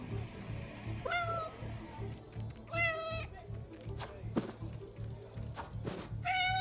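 A cat in the video game Memories Retold meows several times, short rising calls spaced a second or so apart over a steady low game-music drone.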